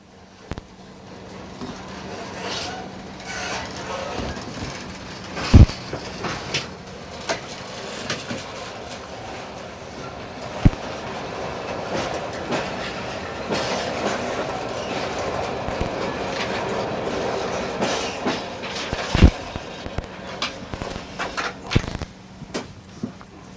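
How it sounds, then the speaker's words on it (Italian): A freight train departs on the Gorizia–Ajdovščina line in 1995, with loud continuous rumbling, rhythmic clickety-clack of wheels over rail joints and occasional sharp metallic knocks, heard close throughout. "Ed ecco il treno merci che se ne va."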